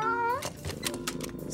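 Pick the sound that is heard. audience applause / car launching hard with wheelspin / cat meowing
cat meowing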